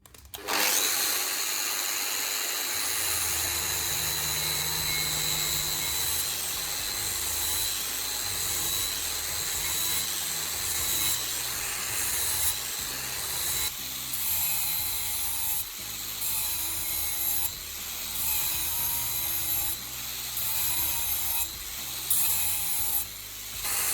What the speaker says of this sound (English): Clamp your axe firmly in a vise, then gently grind both sides of the blade.